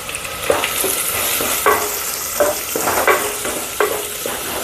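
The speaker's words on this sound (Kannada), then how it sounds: "ಈರುಳ್ಳಿ ಚೆನ್ನಾಗಿ ಕಂದು ಬಣ್ಣ ಆಗೋವರೆಗೂ ನೀವು ಇಲ್ಲಿ ಫ್ರೈ ಮಾಡಬೇಕು" Sliced onions fry in a tempering for foxtail millet pulao, a steady close sizzle punctuated by several sharp scraping stirs of a spatula against the pan.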